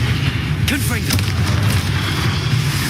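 A Confringo spell fired in Hogwarts Legacy, a loud booming blast with a swooshing, crackling burst over dense, constant game rumble.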